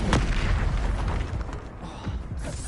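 An Expulso blasting spell in the Hogwarts Legacy video game, heard as a loud close booming blast with crackling debris and a rumbling tail, followed by softer impacts.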